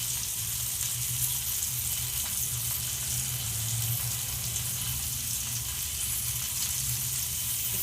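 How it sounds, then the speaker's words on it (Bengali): Tandoori chicken sizzles over medium heat in a pan, making a continuous, even frying hiss that stays steady and close throughout, with no talking. "এবার আমি মিডিয়াম আঁচে চিকেনটাকে হতে দেবো।"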